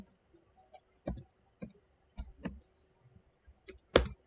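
Keys clicking on a computer keyboard, with sparse, uneven keystrokes and short bursts heard close and fairly quiet in an otherwise still room.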